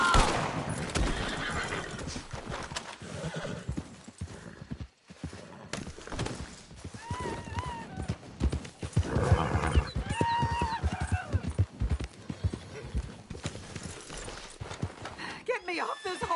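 In the Red Dead Redemption video game, a horse clip-clops steadily throughout, whinnying at intervals, with bursts of gunfire and people talking over the hoofbeats.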